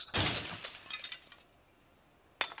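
Glass smashed with an equipped weapon in the zombie survival game Project Zomboid: a loud shattering crash with tinkling fragments, then a quiet gap and a second sharp break.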